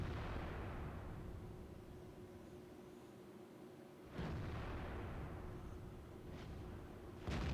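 World of Tanks tank guns fire. Three separate booming shots, the first at mid-clip and two more toward the end, each a sharp crack with a rolling tail, over steady engine rumble and no voices.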